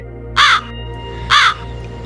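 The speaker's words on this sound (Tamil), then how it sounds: "பின்பு ஒரு காகம் பறந்து வந்து பாதி ரொட்டியை அவர் முன் விட்டு செல்கிறது." A crow gives two loud, close caws about a second apart over a low steady background hum.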